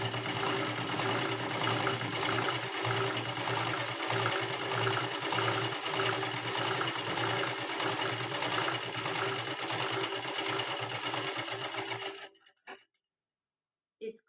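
Sewing machine stitching the folded hook strip of an unlined princess-cut blouse, a loud, steady, even run of fast needle strokes lasting about twelve seconds, then stopping abruptly into near silence with a small click.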